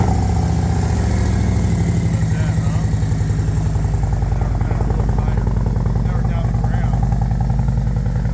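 A 2023 Harley-Davidson CVO with the 121 engine idles in neutral through newly installed mufflers, a steady, close, loping rumble that runs throughout with a slight swell partway in; someone talks over it.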